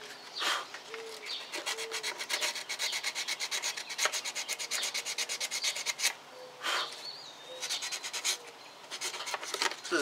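Steady back-and-forth rasping of hand sanding on a hard gourd surface, close and rhythmic, with faint birdsong in the background.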